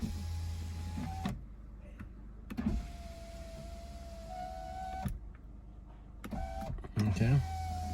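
A Volkswagen Passat's electric window motor, faulty on the passenger rear door, whirring in several separate runs with pauses and clunks between, under occasional talk.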